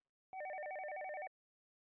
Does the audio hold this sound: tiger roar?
no